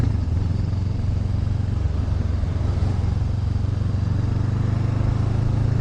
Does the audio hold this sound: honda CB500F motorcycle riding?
yes